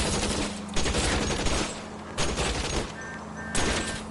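Sustained rapid gunfire aimed at a fleeing car's tires in a video game pours out in long, loud bursts broken by brief pauses, with engine and road noise underneath.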